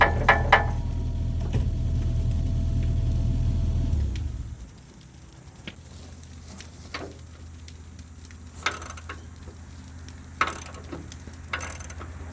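A brand-new John Deere 50P excavator engine rumbles with a deep, steady drone for about four seconds before dropping to a quieter idle, with faint mechanical clicks and clunks scattered afterward.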